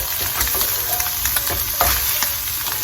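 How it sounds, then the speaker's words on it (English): Bacon sizzles and spits in a non-stick pan coated with canola oil, a steady crackling hiss broken by occasional louder pops and utensil scrapes, close by with no talking. "I'm trying to cook up the bacon, so it should be okay. So non-stick pan here."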